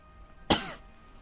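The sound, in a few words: person coughing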